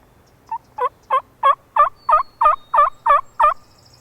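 A mature wild tom turkey gobbles close by and loudly, in a rapid, even series of about ten rattling pulses over a quiet outdoor background.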